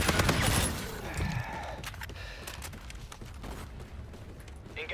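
Gunfire in a video game: a dense burst of rapid shots opens the clip, and sparser, fainter shots follow over a rumbling background.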